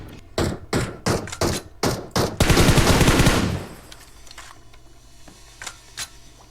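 Video game gunfire: a rapid string of sharp, loud shots in quick rhythm ends in a dense burst of automatic fire, followed by a few faint, scattered shots.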